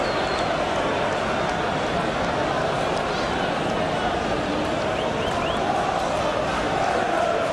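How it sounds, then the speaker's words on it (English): A big football crowd at an Arsenal v Liverpool league match in the 1990/91 season, a dense, steady roar of cheering filling the whole stretch at high level, with a commentator's voice faintly mixed in. "Cheers from the crowd because the referee originally had given the corner to Liverpool, then saw the linesman's flag"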